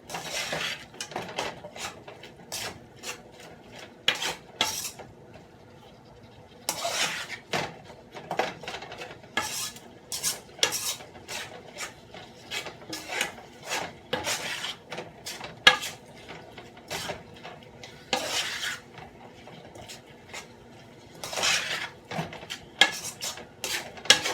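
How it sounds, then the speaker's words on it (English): A spoon stirs Brunswick stew ingredients in a pot, giving repeated close scraping and clinking against the metal in an uneven rhythm, sometimes brisk and sometimes spaced out, with no voices. "now I'm gonna just mix this all up till it's brown"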